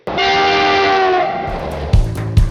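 A loud sustained train horn blast used as a news-segment sound effect holds steady for about a second, then fades into rumbling rail noise with a couple of sharp clanks.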